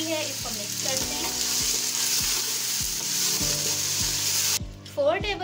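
Capsicum cubes and macaroni being stirred in a hot pan for tikka macaroni, a steady loud sizzle with regular spoon scrapes roughly every half second, ending in a brief clatter.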